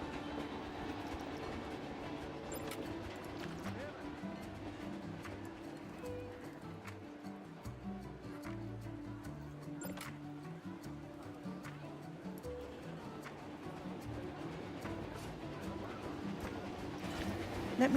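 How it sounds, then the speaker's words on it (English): A train pulls into a station in the theme-park game Planet Coaster 2, a steady rumble with rhythmic rail clicks that runs for the whole stretch, moderately distant and alone without any talking. "I love hearing that train coming in."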